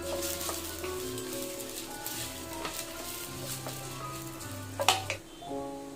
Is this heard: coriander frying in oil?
yes